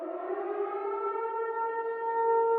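Wailing civil defense siren from a horror-styled parody ad, a steady rising and sustained tone with layered harmonics, loud and continuous with no talk.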